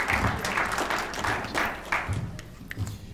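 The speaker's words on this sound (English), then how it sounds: "Give James Herring a big round of applause." An audience at a leadership summit applauds a speaker, a dense wash of clapping that starts full and loud, then thins out and fades over a few seconds, with a few scattered late claps.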